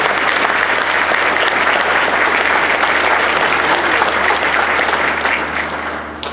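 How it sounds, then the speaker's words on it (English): A large gathering claps for an air cadet squadron at its 75th anniversary annual review, a loud, continuous wash of applause that fades toward the end, with a low steady hum beneath. "Can I ask everyone to join me in a round of applause for this amazing squadron on their 75th anniversary."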